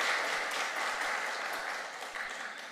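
Church congregation clapping to welcome newcomers during a Sunday service, a brief steady burst of many hands at moderate distance that fades slightly toward the end.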